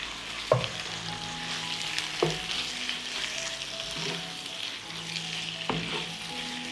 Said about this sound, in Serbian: Na proprženi luk dodajem 500 grama pileće džigerice bez srca